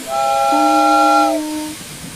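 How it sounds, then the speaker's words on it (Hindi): A loud steam-style train whistle, as of the Rajdhani Express, sounds alone in a layered chord, a higher tone joined by a lower one, held steady for about a second and a half before fading. "तभी अचानक दूर से तेज और आत्मविश्वास भरी सीटी सुनाई दी"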